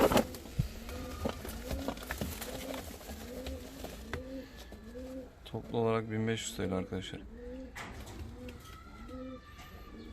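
Several fancy pigeons coo in repeated, rolling low calls close by, with someone talking over them throughout.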